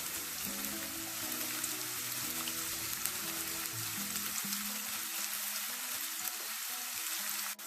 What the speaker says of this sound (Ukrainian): І висипаємо сюди цибульку. Соусом трішки її обсмажимо.